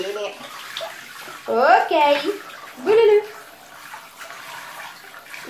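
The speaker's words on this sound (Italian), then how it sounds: "è l'acqua per fare il bagnetto" Tap water runs to fill a baby's bath, a continuous splashing stream heard close by, while someone talks over it and a small child vocalizes.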